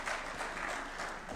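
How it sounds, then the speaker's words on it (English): Audience applause at a Kenyan national address by President Ruto as Francis Atwoli is introduced, a steady wash of many hands clapping throughout, fairly faint and distant with no speech. "A clap for Francis Atwoli."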